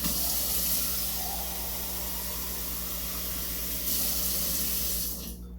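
Water pours steadily from a small tea kettle onto house plants, giving a continuous close hiss and splash over a low hum, easing off at the end.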